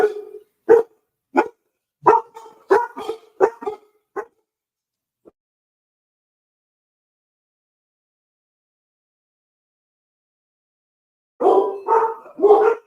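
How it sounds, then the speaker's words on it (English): Dogs bark sharply at someone at the door in a quick run of repeated barks, then fall silent before another close burst of barking near the end. "Got somebody at the door and the dogs are barking"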